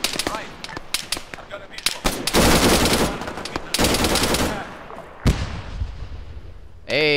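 Heavy machine gun fire in ArmA 3 arrives as sustained loud bursts of rapid shots, mixed with sharper single cracks and distant thumps. A few isolated shots come in between the long bursts.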